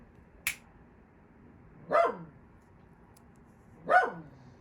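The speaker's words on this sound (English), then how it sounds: "I have a barking dog." A dog barks twice, spaced about two seconds apart, each a short sharp bark, preceded by a brief click; otherwise quiet.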